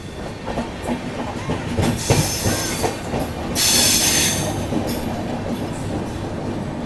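A long-distance Indian express train rolls past on the adjacent track, steady rumble and rhythmic wheel clatter with bursts of squealing and hiss, close and loud throughout.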